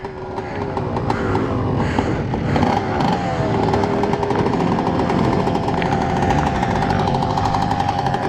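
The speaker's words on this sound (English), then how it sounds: "there's 2 strokes all around me, just like revving" Several two-stroke dirt bike engines rev loudly all around at an off-road riding event, a dense continuous buzzing roar with overlapping whining pitches rising and falling.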